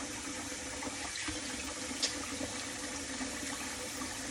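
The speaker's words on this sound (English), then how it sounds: "I'm gonna wash my hands" Running tap water pours steadily as hands are washed under it, a continuous close wash of water with no talking.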